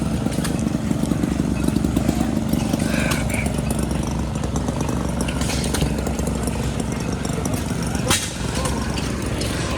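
An old Economy hit-and-miss engine runs at a steam and gas engine show, giving a steady low chugging rumble throughout amid outdoor crowd noise, with people talking nearby.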